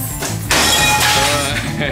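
Glass being smashed for fun during a destruction session, with a loud shattering burst and tinkling fragments over about two seconds, while people's voices run underneath.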